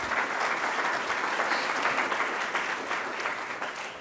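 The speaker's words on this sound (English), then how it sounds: "let's give them all a big round of applause" An audience at a civic innovation summit applauds, dense steady clapping from a crowd filling the hall throughout, fairly close and gradually easing.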